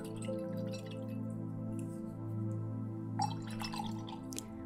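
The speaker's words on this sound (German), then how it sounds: "dass wir unseren Pinsel erstmal ins Wasserglas tauchen und ein paar Mal schwenken" Paintbrush dipped and swished a few times in a glass of water, faint soft drips and splashes close by in a quiet room over low background hum.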